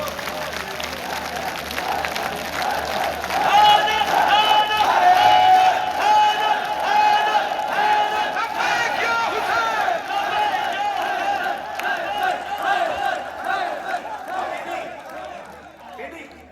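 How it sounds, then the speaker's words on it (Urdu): Large crowd at a 3 Shaban celebration in an imambargah in Chakri, Rawalpindi, chanting the slogan Labbaik ya Hussain in loud, sustained unison, with a rhythmic voiced chant rising and falling over a steady roar of voices. "اب آپ نے لبیک یا حسین کے نعرے لگائے."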